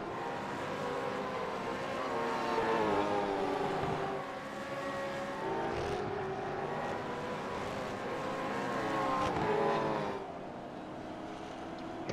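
Simulated V8 race cars roar steadily down the pit lane at Silverstone in a sim racing game, several engines overlapping in a loud, sustained drone that swells and dips as cars pass close by.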